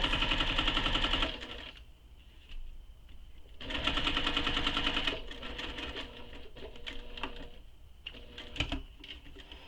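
Bursts of rapid sewing machine stitching along a tote bag seam, two loud continuous runs separated by quieter pauses with handling clicks and taps, close by with no speech.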